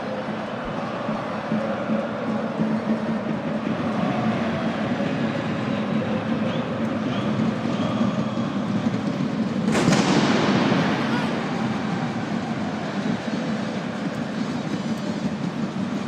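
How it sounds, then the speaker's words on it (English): Firecrackers go off in a half-full Velodrome Stadium during a football match, with one sharp bang about two-thirds through that echoes out over a steady crowd roar. "Firecrackers echoing around a half-full Velodrome Stadium today."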